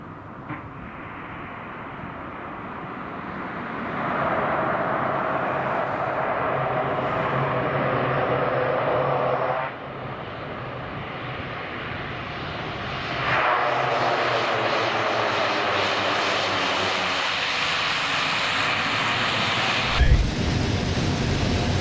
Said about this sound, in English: Landing a Cessna in a crosswind is part art, part science, and part stubbornness.